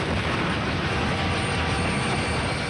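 A train rushes past at close range in a public service announcement, a dense, steady roar of wheels and rail noise filling the whole clip with no pauses and no voices.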